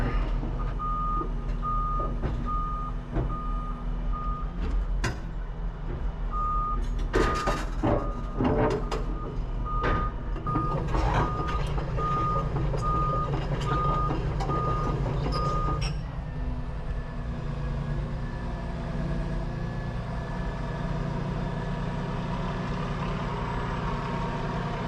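A Volvo EC235EL excavator idles with a heavy low rumble while its reversing alarm beeps steadily for about fifteen seconds as it crawls off a trailer. Creaks and clanks of tracks on the deck are heard, then the beeping stops and the engine keeps idling.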